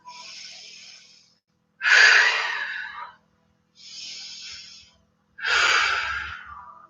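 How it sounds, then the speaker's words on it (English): Deep, audible breaths during a slow yoga flow: four long airy breaths alternating softer inhales with stronger, louder exhales, each lasting about a second or more, close and steady with no talking. "2 more deep breaths."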